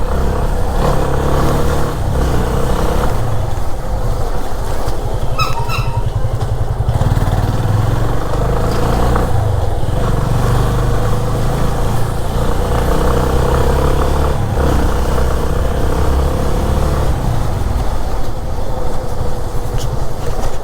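A Yamaha FZ25 motorcycle engine drones steadily throughout, with road and wind rumble and no talking, as the bike cruises along.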